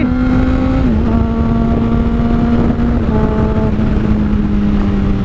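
A Honda CBR600RR sport motorcycle with a Toce exhaust is being ridden and downshifted by hand. Its loud, close engine note drops and steps between gears while wind rushes steadily past.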